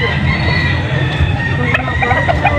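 Boston breed roosters and hens at a poultry spot in Angeles City, Pampanga cluck and crow close by, overlapping in a busy, continuous stretch.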